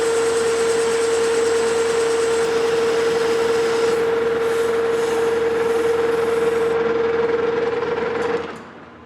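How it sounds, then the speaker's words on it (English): A lathe takes a heavier 40-thousandths cut on a flywheel for a scale model Galloway hit-and-miss engine, producing a loud, steady whine with a constant motor hum that holds evenly before winding down at the end, with no talk. "I'm gonna take a little bit heavier cut. We'll just do 40 thousandths. Take a couple of passes and get it cleaned up."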